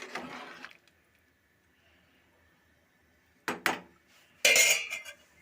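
Rice being stirred in a pot while cooking veg biryani: short bursts of metallic scraping and clinking, one at the start and two near the end, separated by near silence.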